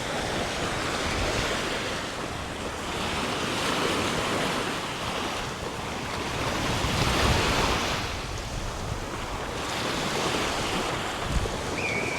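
Small waves wash onto a little urban beach beside the marina in Limassol, with fishing boats offshore; a steady, fairly close surf roar with gentle swells in intensity and some wind buffeting the microphone, no talking.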